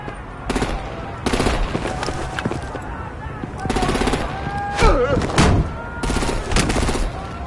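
Gunfire in the video game Batman: The Enemy Within comes as several loud, rapid bursts of automatic shots, broken by short gaps, over a busy action-game background.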